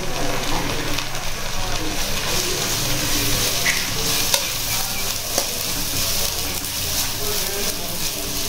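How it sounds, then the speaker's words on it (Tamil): Onion, green chili and curry leaves frying and being stirred in a pan during home cooking, giving a steady close sizzle with scraping spoon clicks throughout, with a faint background voice. "இது நல்லா வறுத்ததுக்கு மேட்டா வெங்காயம், பச்சை மிளகாய், கருவேப்பிலை"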